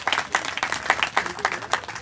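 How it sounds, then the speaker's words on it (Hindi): Crowd applause at a political gathering, a burst of clapping with uneven pulses that rises and dips over two seconds, fairly close and moderately loud. "आप तमाम लोग एक बार तालियों की गड़गड़ाहट से उसका हर्षवर्धन"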